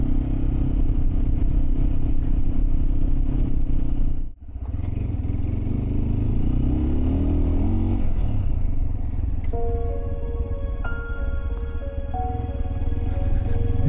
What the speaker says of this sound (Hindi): इसलिए थोड़ा बाइक में स्लो ही चला रहा हूँ प्यार मोहब्बत से